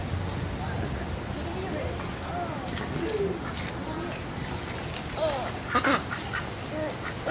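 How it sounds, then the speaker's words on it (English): Geese at a zoo honk and call intermittently nearby while people talk over them, with a few louder calls near the end. "This stop is to see the geese, or the goose."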